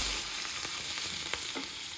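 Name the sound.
onion and garlic frying in oil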